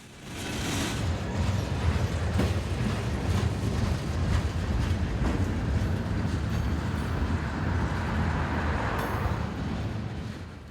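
A CSX freight train rolls past on the Cumberland Subdivision in Maryland, its steel coil cars producing a steady, loud rumble and rattle that holds nearly constant throughout, with faint clicking of wheels over rail joints.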